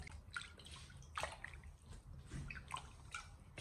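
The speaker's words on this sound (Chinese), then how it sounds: "接下来我们把五花肉给它放在清水中，我们用清水把肉给它清洗干净" Pork belly is rinsed by hand in a basin of clean water, giving soft, quiet sloshing and dripping splashes in an irregular rhythm.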